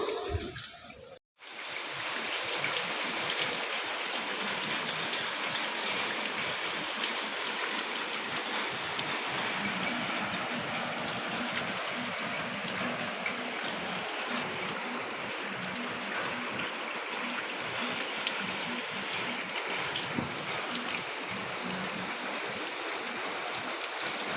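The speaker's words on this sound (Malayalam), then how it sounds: "പുറത്ത് നല്ല മഴയും പെയ്യുന്നുണ്ട്" Heavy rain pours down in a dense, unbroken roar of falling water, steady and loud after a brief break at the start.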